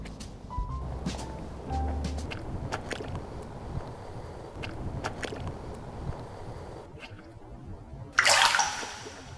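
River water swirls and sloshes around cheap Workman hiking shoes as someone wades in, a continuous churning wash with scattered knocks, ending in a brief loud splash; no voices.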